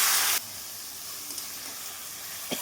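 Onion, garlic and green chili paste sizzles in a pan as a splash of water is added. A loud hissing burst comes first, then it settles into a steady, quieter sizzle with a few faint stirs.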